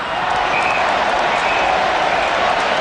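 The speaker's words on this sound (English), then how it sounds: "Gee, the crowd gets stuck into him." Loud, continuous roar of a big Australian rules football crowd at a Geelong vs Carlton AFL match, jeering a Carlton player as a steady wall of noise, with commentary over it.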